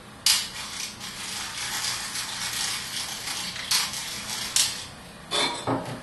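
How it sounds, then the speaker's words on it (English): A pepper mill grinds black pepper over raw-food cheesy pasta with peas: a run of dry, scratchy crunching twists, close and moderately loud, with a few sharper clicks near the start and end. "I'm also going to give it a nice grind with black pepper."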